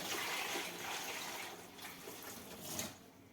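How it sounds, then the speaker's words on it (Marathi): Dal is rinsed in water, with quiet sloshing and swishing that swells and fades over a few seconds, faint and close. "1-2-3 वेळा पाण्याने धुवून घ्यायची ही डाळ"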